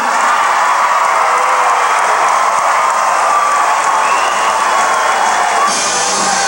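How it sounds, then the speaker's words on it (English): A large crowd at a Marineland marine mammal show with seals, sea lions, dolphins and whales cheers, whoops and applauds loudly and continuously, children's shouts mixed into the dense roar. "Cheer him on."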